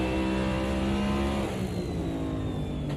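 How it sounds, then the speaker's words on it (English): A race car engine revs in a sim racing game on the Cleveland GP circuit, a loud continuous high-pitched scream that eases slightly as the throttle lifts, with no talk over it. "You can kind of hear that throttle lifting and the car just screaming to get around."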